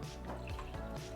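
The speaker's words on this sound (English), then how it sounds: "you fill the water reservoir up to the first tick mark" Water being poured into the reservoir of an automatic drip coffee brewer, a steady close liquid trickle with faint dripping, alone with no voices.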